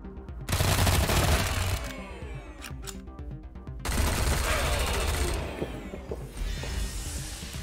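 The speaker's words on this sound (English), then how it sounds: "Private Parts is a machine gun?" Machine gun fire in a Wasteland 3 battle, two loud sustained bursts of rapid shots with short clicks and gaps between them, ringing in a busy combat mix.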